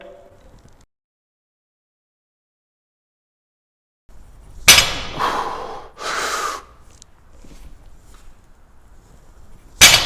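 During a heavy barbell deadlift rep, a lifter gives a sharp gasp followed by strained, forceful breaths after a stretch of silence, with a final loud exhale and faint clinks.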